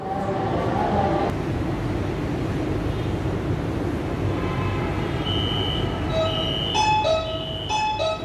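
Lahore Orange Line train running, a steady rumble of rolling stock with rising tonal whines and chime-like tones toward the end, moderately distant and continuous.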